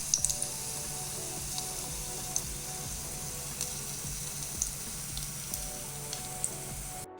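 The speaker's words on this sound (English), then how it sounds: "I'm still gonna wash my plate so that at least like we can eat in it." Steady hiss of running tap water while a plate is washed in a kitchen sink, close and continuous for several seconds with faint clinks now and then.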